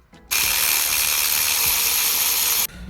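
A wrench works a nut loose on the alternator of a 2012 Ford C-Max, a close, loud and steady whirring burst that runs almost three seconds before stopping abruptly.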